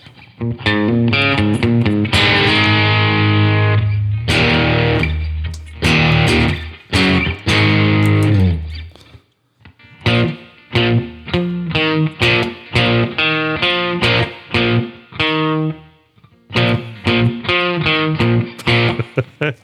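Electric guitar riffs with distortion are played in quick succession, loud and close, chugging and then choppy staccato phrases broken by short pauses, with no talk.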